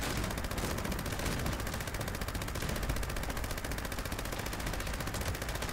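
A quad Gauss minigun in Fallout 76 fires without pause, giving a dense, loud, rapid rattle of shots that holds steady throughout with no voices.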